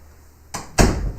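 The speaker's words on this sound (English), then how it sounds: "I gotta close the door." A door pushed shut indoors, a faint first knock followed by a louder thud and a short rumbling tail, close to the microphone.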